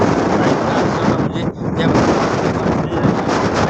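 Strong dust storm wind buffeting the microphone outdoors near a motorbike, loud continuous roaring gusts with one brief lull midway, no clear speech.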